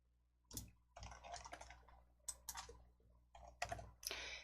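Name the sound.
pressing the L key on a computer keyboard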